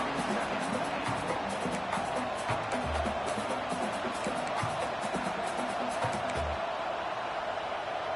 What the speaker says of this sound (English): And the crowd really making some noise now, trying to help out this defense